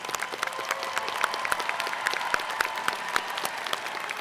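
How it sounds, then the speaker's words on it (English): A commencement audience of graduates, families and guests breaks into a sustained round of applause, dense steady clapping filling the hall from start to finish with no talk over it. "Round of applause."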